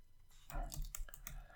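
Typing on a computer keyboard: a quiet, close flurry of soft key clicks over about a second, irregular in rhythm, with a voice faintly audible underneath.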